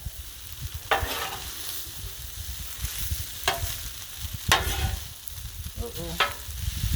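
Chicken fried rice with stir-fry sauce being stirred on an outdoor griddle, a steady sizzle under several sharp metal spatula scrapes and clanks.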